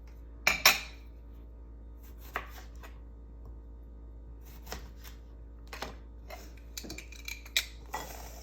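Two lemons cut with a knife, a handful of sharp isolated knife taps and clicks against a board, separated by quiet gaps.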